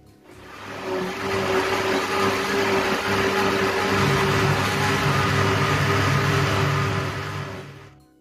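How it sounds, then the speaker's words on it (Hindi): Kitchen mixer grinder blending besan, yogurt and water into a smooth batter for kadhi, a loud steady motor whir with a constant whine that ramps up, holds for several seconds and winds down. "और अब इसको करते हैं ग्राइंड।"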